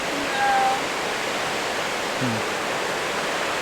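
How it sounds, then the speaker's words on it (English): Large waterfall on Jeju, South Korea, a steady, loud rushing roar that fills the whole stretch, with faint bird chirps or voices briefly above it. "we made it to the waterfall, and it is gorgeous"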